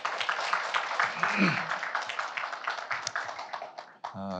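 A forum audience at Yeungnam University's 75th anniversary global forum applauds steadily for several seconds as a dense, even patter of many hands. The clapping thins out near the end, and a voice begins over it.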